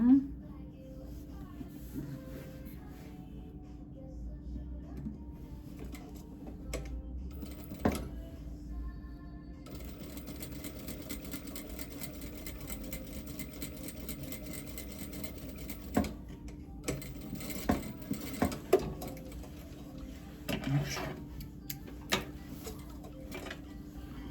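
Sewing machine stitching a hanbok skirt waistband tie, a steady fast mechanical ticking run that stops and starts, with a few louder clicks and a voice talking quietly at times.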